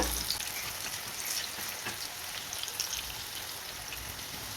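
Crisp corn pakoda fritters bubbling in hot oil over a low-to-medium flame, an even, fairly close crackling sizzle that runs on without any speech.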